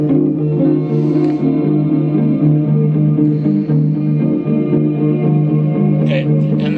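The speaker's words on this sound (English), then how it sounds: "that sound right there is a sound I created that has a huge reverb, decay reverb" Sustained electric guitar chords swell and hang in a long, washy decay reverb tail, loud and layered with echoing texture throughout.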